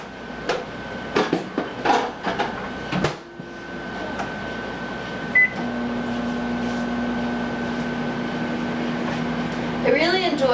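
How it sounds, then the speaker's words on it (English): A microwave oven runs to melt sugar for a dessert, giving a steady, even hum that settles in after a few seconds of clattering kitchen knocks and handling, with a short higher tone near the end. "I might add a little bit of microwave time for it just to make sure that it's completely and thoroughly"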